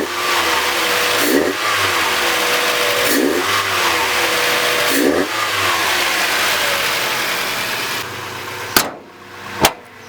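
A Mazda Miata engine fitted with a short ram cold air intake, revved repeatedly in three long, loud pulls with audible intake roar, each dropping back briefly, then settling to idle with two sharp blips near the end.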